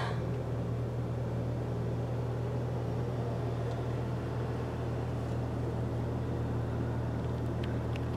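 A 2019 VW Beetle drives along with a steady low engine drone and road hum from inside the cabin, constant and moderately quiet, with a few faint clicks near the end.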